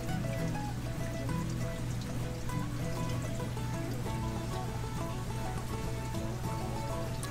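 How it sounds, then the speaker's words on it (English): Fresh water steadily cycling through betta enclosures in a fish store, a continuous splashing trickle and patter like light rain, close and even throughout, with a low steady hum beneath. "You see this fresh water constantly cycling in."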